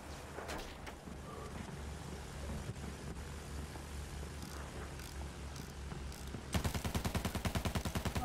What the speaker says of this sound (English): I can hear the bullets from the landship